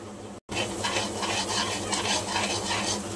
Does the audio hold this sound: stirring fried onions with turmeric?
yes